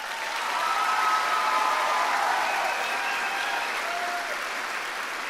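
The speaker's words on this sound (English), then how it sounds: "Audience, please join me in applauding their efforts." Sustained audience applause at the 2023 Harlingen School of Health Professions commencement ceremony, a broad even roar of clapping in a large hall, moderately loud with faint cheers within.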